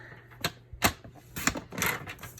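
Paper trimmer blade slicing cardstock down to size for a notepad holder craft, a few short sharp cutting and clicking strokes spaced irregularly, close and fairly clear with no talking.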